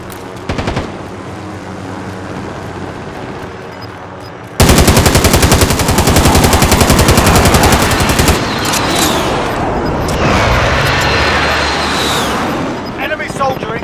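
Sustained automatic bursts from a light machine gun in Call of Duty Warzone, loud and close, with dense rapid fire over continuous battlefield noise after a quieter opening.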